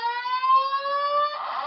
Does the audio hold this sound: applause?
no